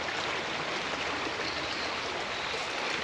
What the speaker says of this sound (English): what a beautiful river it is too.